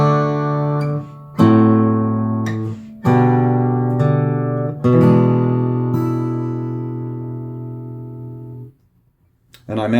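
Fingerstyle acoustic guitar playing two measures of a song, including an E7th chord, plucked chords ringing out and decaying in a slow phrase, close and alone, ending in brief silence.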